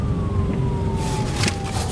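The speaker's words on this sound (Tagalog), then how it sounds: "Ambulansya pa. Kaya mo lang yung ambulansya na yan." An ambulance siren wails in a steady tone that slowly drops in pitch as the vehicle passes, fairly loud over a rumble of road traffic.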